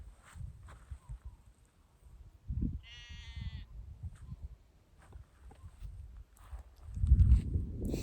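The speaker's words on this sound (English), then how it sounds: "Just me and the sheep up here." A sheep on a remote hillside in Scotland's Shetland Islands gives a single short bleat, faint and distant, under wind noise and soft rustling.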